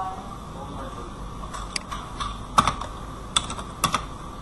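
Computer keyboard keys clack in short irregular bursts as a username is typed into a login form, a few sharp clicks over a faint room hum, with no speech.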